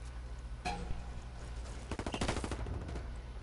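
Gunfire in the video game Ghost Recon Wildlands, with one sharp shot followed by a dense, rapid burst of automatic fire, all at moderate loudness.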